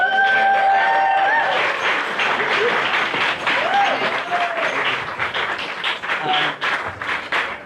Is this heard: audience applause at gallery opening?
yes